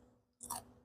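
One close, sharp crunching bite into a charred, smoky chicken wing cooked on a Pit Boss smoker, a brief crisp crackle after a quiet pause, with no talking.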